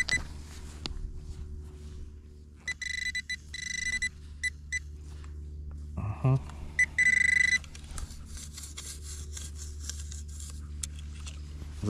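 Quest X10 Pro metal detector sounds a series of short electronic beeps and tones at a fishing spot, loud and close, with brief pauses between bursts over steady outdoor background noise.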